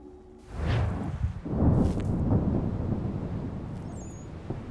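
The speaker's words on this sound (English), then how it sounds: "There's still a thunderstorm going on, huh?" A thunderstorm in Assassin's Creed rumbles as a deep, rolling roar that swells after a brief quiet start and stays steady and heavy, with faint whooshing gusts over the low rumble.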